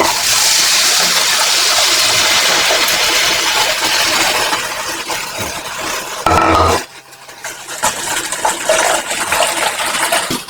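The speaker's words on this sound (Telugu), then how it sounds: "ఇప్పుడు చింతపండు పులుపు పోసుకోవాలి" Tamarind juice poured into a simmering fish curry gives a steady, loud liquid gush and splashing for several seconds, then a brief clunk and quieter bubbling and stirring as the pour ends.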